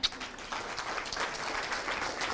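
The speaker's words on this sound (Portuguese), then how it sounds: "Uma salva de palmas para ela." Audience applause at a live talk or event honouring a woman on stage, a steady wash of many hands clapping that holds even throughout without voices over it.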